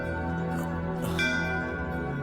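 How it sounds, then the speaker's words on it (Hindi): Bells ring out suddenly in a dense, sustained metallic peal, loud and continuous with a bright strike partway through, no talking. "ये अचानक घंटियां कहाँ से बजने लगी?"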